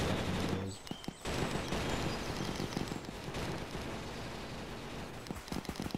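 Distant rapid autocannon fire in the video game Zeppelin Wars thuds on in a dense rolling stream, with a few sharper bursts near the end, no voices.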